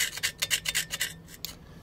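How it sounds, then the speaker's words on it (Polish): Rust being scraped off the edges of a brake caliper, a quick series of about ten close, gritty rasping strokes in a steady rhythm, faint and alone. "dobrze sobie wyczyścić tutaj te całe tutaj krawędzie z rdzy"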